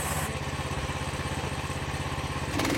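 The 13.5 hp Briggs engine on a Frontier OS27 sawmill runs close and loud with a steady, rapid putter that holds an even rhythm, then shifts slightly at the very end.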